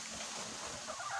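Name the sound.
backyard chicken clucking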